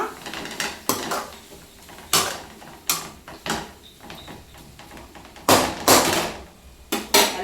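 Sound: cooking pot being stirred and lid put on

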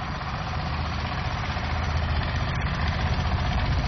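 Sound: small boat motor, sounding like a hand tractor

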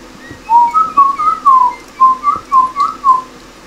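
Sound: person whistling Oye Como Va by Carlos Santana

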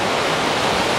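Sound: rough water crashing in a bay

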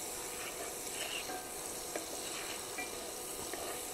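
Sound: butter sizzling in a hot pan

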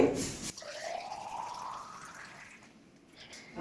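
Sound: pouring hot water into weight loss drink

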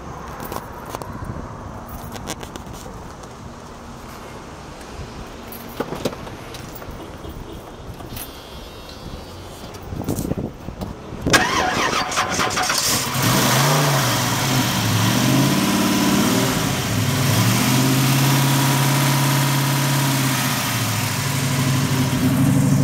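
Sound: muscle car V8 engine starting and idling

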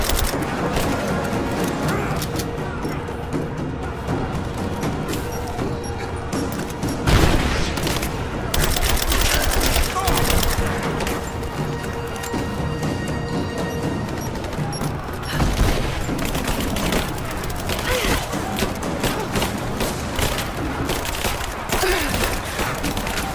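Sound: gunfire in the video game Rise of the Tomb Raider

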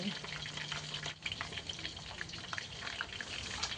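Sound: chicken pieces deep-frying in oil

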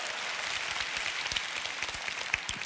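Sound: congregation clapping

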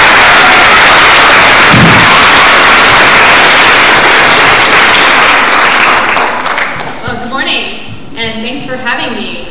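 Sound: audience applause welcoming keynote speaker

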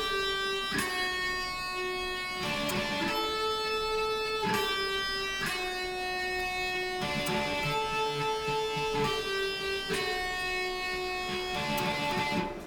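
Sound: electric guitar playing a riff

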